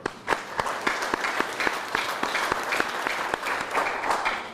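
An audience applauds at a university event introducing Chris Pezman as the new Arkansas State athletic director, with sustained crowd clapping and distinct sharp claps in a steady stream throughout, fairly close.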